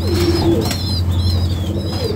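Restless pigeon chicks in a loft during fierce heat give thin, squeaky whistling calls in short repeated bursts over a steady low hum.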